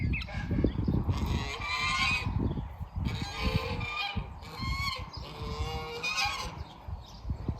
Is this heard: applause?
no